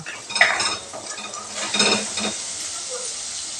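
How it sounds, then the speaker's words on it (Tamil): Turmeric and ground garlic-chili paste sautéing in a pan for egg rice, with a spoon stirring and scraping against the metal over a steady sizzle, close and moderately loud, with no talking. "இதெல்லாம் நல்லா வதக்கி விட்டுறலாங்க பச்சை வாசனை போகிற வரைக்கும் நல்லா வதக்கி விட்டுறலாங்க"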